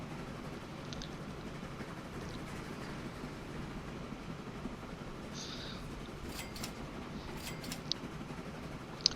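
A replacement train in the video game Train Fever runs with a faint, steady rolling rumble, and a few light clicks and ticks sound near the end.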